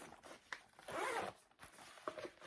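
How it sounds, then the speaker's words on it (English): Zipper along the top zippered opening of a thrifted designer handbag, pulled in short quick strokes with one longer drawn pull, close and fairly quiet, with no talk over it. "The top is a zippered area on this one."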